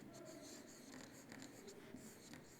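A teacher writes on the classroom board during a primary-school grammar correction, making soft, continuous scratchy strokes, close but faint against a low room hum, with no speech.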